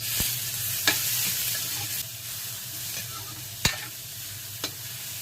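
Onion, garlic and ginger sautéing in oil for pompano sinigang, a steady soft sizzle with a few sharp clinks of a utensil against the pan, no voices.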